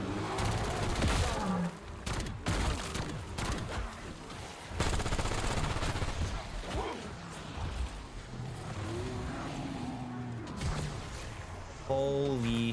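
Automatic gunfire in Black Ops 7, sustained rattling bursts running almost the whole time with brief breaks, mixed with game effects, while a person talks over it.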